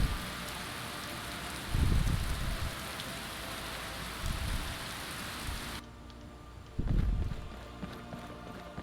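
Steady rain in a fantasy role-playing video game, a constant hiss that cuts off abruptly partway through, with a few heavier thumping footsteps or hoofbeats and a quieter ambient background afterward.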